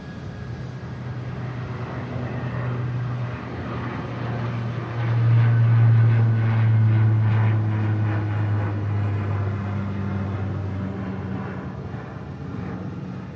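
A Luxair Dash climbs away after takeoff from Manchester Airport, its engine drone holding steady, swelling louder midway, then easing off as it recedes.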